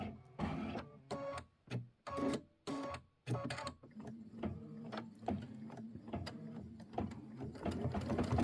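An embroidery sewing machine stitches out a mini quilt, a rapid mechanical chatter broken into bursts with short pauses, then a steadier run of stitching.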